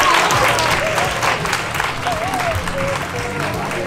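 Audience applause fills a cosplay contest hall, a dense steady roar of many hands clapping at close range for the full few seconds, with voices and whoops mixed in underneath.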